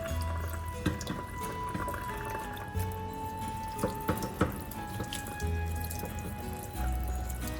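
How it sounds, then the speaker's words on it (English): Tap water runs steadily into a sink while beets are washed and peeled under the stream, with occasional splashes and clunks of handling close by. "wash and peel them right under running water"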